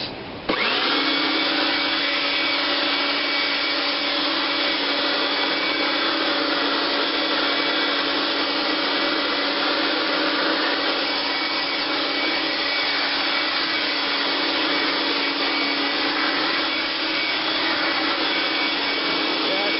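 Electric leaf blower switching on and running loud and steady, a continuous high whine over a rushing air roar, close by.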